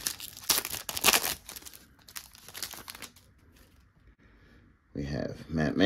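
Foil baseball card pack being torn open and crinkled, with sharp bursts of ripping and crackling followed by quieter rustling, then a person starts talking.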